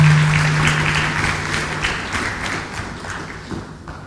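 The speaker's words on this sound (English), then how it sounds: "Please give her another round of applause." An audience at an annual lecture claps for a speaker, a steady wash of applause slowly fading over a few seconds, with a low hum underneath.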